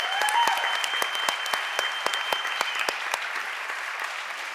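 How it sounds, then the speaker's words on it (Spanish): An audience at a political communication talk claps steadily and loudly throughout, with some sharper individual claps standing out. "Un aplauso para la compañera"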